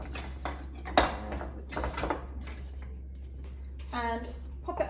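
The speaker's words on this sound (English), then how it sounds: "you pop it all in the pan" Chopped courgette and the other chilli jam ingredients are tipped into a pan, with a few scattered clinks and scrapes of metal and utensils under intermittent speech.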